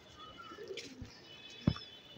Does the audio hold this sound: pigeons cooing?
yes